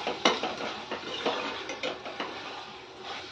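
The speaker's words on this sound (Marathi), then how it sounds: "आणि ह्याला मिक्स करून घ्यायचंय." Vegetables with mint and coriander stirred in a pressure cooker pot for a vegetable pulao, a spoon scraping and clinking against metal in irregular taps and scrapes, fairly quiet and close, with no talking.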